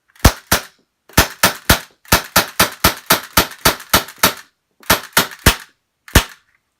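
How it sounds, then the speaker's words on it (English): CYMA Colt 1911 CO2-powered semi-auto airsoft pistol firing about eighteen sharp, loud snapping shots alone, in quick uneven bursts of two to ten with short pauses, ending on one final shot. "So here I'm going to fire a couple shots."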